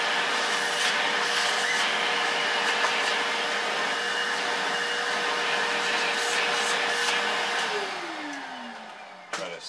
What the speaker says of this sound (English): get my vacuum back over here.